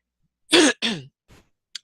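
A couple of short, dry coughs close to the mic, followed by a faint throat noise and a tiny sharp click.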